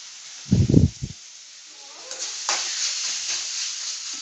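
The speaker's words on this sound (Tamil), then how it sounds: "பாருங்க, தக்காளி நல்லா வதங்கிடுச்சு" Tomatoes sautéing in a pan for a hotel-style salna curry: a couple of soft thumps, then a faint, steady sizzle and hiss that swells slightly and continues to the end, with no talking.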